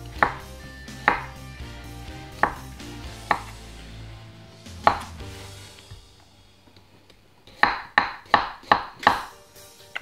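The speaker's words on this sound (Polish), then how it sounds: "No jak tak mam oskrobane te buraczki, to po prostu je pokroję" Scraped beetroots are chopped with a knife on a cutting board, sharp distinct knocks at first spaced slowly, then a quick run of five or six chops close to the microphone.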